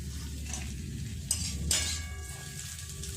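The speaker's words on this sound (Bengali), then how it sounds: "একটু ঘিয়ের ওপরে ভেজে নেব দিয়ে।" Vermicelli frying in ghee in a pan gives a quiet, close sizzle, with two sharp metallic scrapes and clinks of a utensil stirring against the pan.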